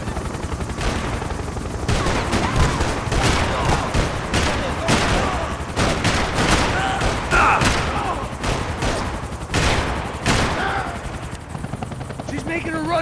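Rifle fire crackles in repeated bursts and single shots during a helicopter chase in the video game Max Payne 3, over a constant loud rotor drone, with voices shouting amid the shooting.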